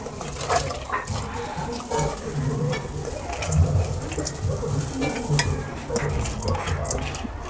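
Washed rice poured into a pot of boiling water spiced with cloves for Bengali-style fried rice, making steady bubbling, stirring and scraping against the pot, close and continuous with occasional clatters and no speech.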